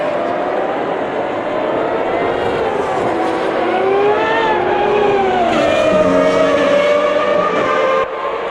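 Historic race cars at Monza in the Automobilista 2 racing game, including a factory works Ferrari, roar continuously with rising and falling engine pitch as they shift gears, loud and steady throughout without a break.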